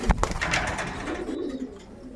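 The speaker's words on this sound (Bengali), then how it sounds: "এই কবুতরটা এটি একটি দেশি কবুতর" A native Bangladeshi (deshi) pigeon at a pigeon farm gives a soft, low cooing call close by, preceded by a couple of brief thuds, with no talking.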